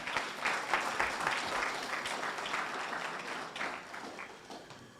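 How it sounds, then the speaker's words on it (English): Applause from an audience at a Prince Hall Grand Lodge of Massachusetts gathering, honoring the committee: a dense, steady wash of many hands clapping that holds for several seconds and slowly tapers. "Let's give another round of applause to the committee for excellent job."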